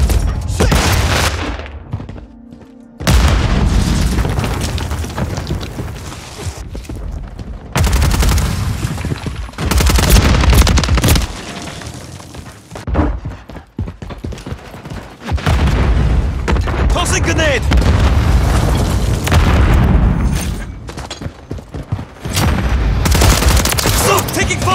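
Call of Duty team deathmatch combat: a grenade blast amid repeated bursts of rapid gunfire and booming impacts, loud and dense throughout with brief lulls, radio-style voice callouts mixed in.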